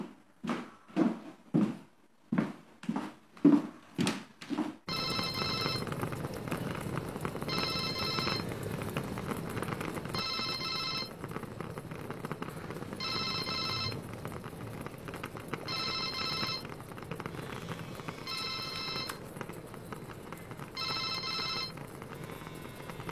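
Outgoing phone call ringback tone repeating in regular short bursts with pauses between them, quiet and steady over a low hum, after a few soft thumps at the start.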